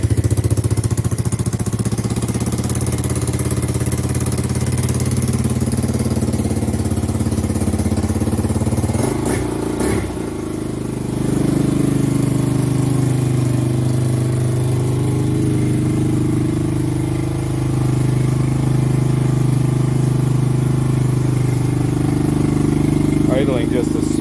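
A 1985 Honda ATC 200X three-wheeler engine idles steadily just a little high after a kickstart, a close, even mid-pitched drone with a brief blip partway through, while someone talks over it.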